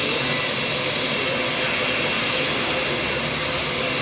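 Embraer C390 Millennium military transport jet at an air show, its engines producing a loud, steady broadband roar that fills the whole span without letting up.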